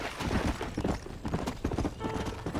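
Horses' hooves clip-clop in a dense, uneven patter as a small herd of cattle and horses is driven along in Red Dead Redemption, the steps loud and close with no speech.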